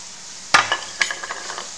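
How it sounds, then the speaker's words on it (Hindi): Soybeans tipped into frying masala in a pan and stirred, with two sharp clattering impacts followed by light scraping and stirring clicks against the pan. "हमारा मसाला भुन गया है, अब हम इसके अंदर जो हमारे सोयाबीन था उसको डाल देंगे"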